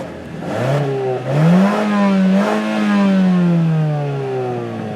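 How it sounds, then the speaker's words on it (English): The exhaust of a 2017 Mazda CX-3 AWD compact SUV revs up loudly several times, the engine note rising and falling in pitch, close by with no talking. "Ian, let's put the camera on the exhaust so people can hear it as Nathan spools it up."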